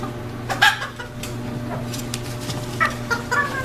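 Purebred chickens cluck in short, scattered bursts over a low steady hum, moderately close, with no voices.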